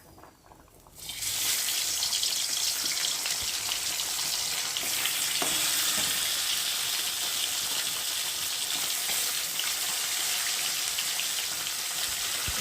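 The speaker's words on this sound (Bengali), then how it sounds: "এখন আমি নুন হলুদ মাখিয়ে রাখা মাছগুলোকে দিয়ে একে একে ভেজে নেব" Salt-and-turmeric coated bhola fish pieces drop into hot oil, setting off a loud, steady, close sizzle that jumps up after a quiet second and keeps crackling evenly.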